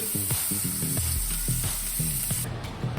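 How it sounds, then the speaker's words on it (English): A loud, steady sizzle and hiss rise from a steak topped with garlic herb butter searing in a pan, close up, with faint tonal sounds over the frying and no clear speech. "I'm just gonna gently put it down and sear it each side for about 3 minutes"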